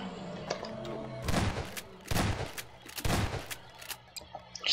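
Three separated bursts of gunfire in Garry's Mod, fired at a tripod creature, each a loud noisy blast about a second long over a low droning game background.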